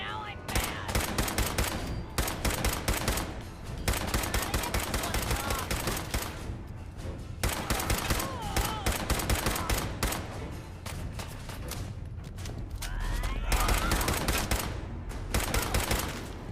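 Rapid bursts of gunfire in Fallout 4, loud and dense, crackling shots in tight strings with brief gaps between volleys across the whole stretch.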